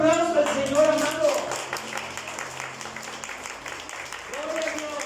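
Church congregation applauding in praise during a Spanish-language worship service, broadband clapping running throughout with a sung or shouted voice over it near the start and end.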